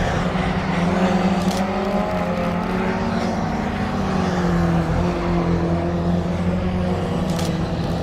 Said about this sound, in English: Nice Ford Anglia.